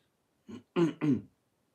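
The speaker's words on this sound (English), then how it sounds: "Sorry about clearing my throat so much." Someone clears their throat up close: a short rasp followed by two stronger, gravelly pushes, then silence.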